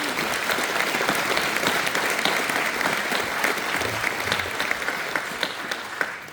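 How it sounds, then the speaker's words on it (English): A large audience applauds veterans at a patriotic evening event, with dense, steady clapping filling the room continuously from start to finish, loud and unbroken. "Can we give them one more round of applause?"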